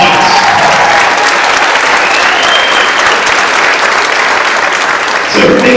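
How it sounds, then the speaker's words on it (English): Audience at a school holiday band concert claps in a loud, dense, continuous round of applause that holds steady throughout before tapering slightly at the end. "Just a round of applause."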